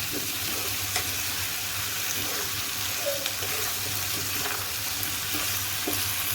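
Spices and masala frying in a pan give a steady close sizzle, with light stirring scrapes coming and going underneath.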